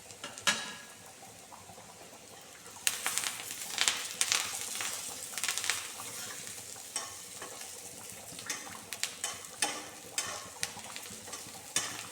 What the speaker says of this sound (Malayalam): ഇതിലേക്ക് ലേശം കറിവേപ്പിലയും കൂടി ഇട്ട് കൊടുക്കാം നമുക്കിപ്പോൾ